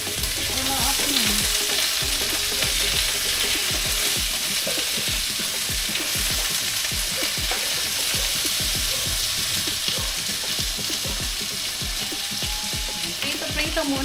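Vegetables sizzle and crackle in a hot frying pan, a steady close hiss with rapid popping and occasional stirring scrapes, continuous and fairly quiet with no talking.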